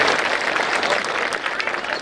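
An audience at a Telugu religious discourse in a temple claps together in a dense, steady burst of applause, close and fairly loud, with the murmur of voices mixed in.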